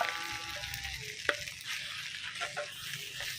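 Salmon fried rice with tomato being stir-fried in a pan, a steady low sizzle with soft scraping stirs and a sharp utensil clink near the middle, close by with no talking.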